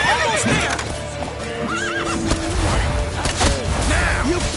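Horse in the video game Witcher 3 neighing repeatedly with shrill, wavering whinnies over clip-clopping hooves, amid battle crashes and whooshes and shouting voices.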